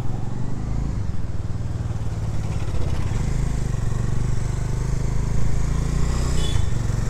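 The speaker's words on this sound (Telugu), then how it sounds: "సో గైస్, మన బండి అయితే స్టార్ట్ అయిపోయింది" A motorcycle engine, the rider's bike, runs steadily close by with a throbbing idle and slight revving, no one speaking over it.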